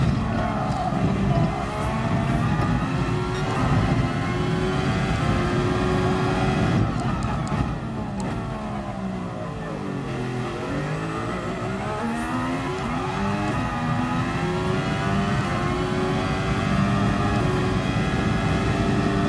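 A race car engine in the driving game Gran Turismo Sport, played in VR. It drones loudly and continuously, its pitch sweeping up and down through gear changes, with a deep dip and climb midway.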